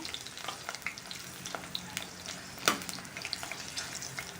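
Buttermilk-soaked sun-dried chillies frying and being stirred in hot oil, a continuous soft sizzle with scattered crackles and pops and one sharper spit midway, close but quiet.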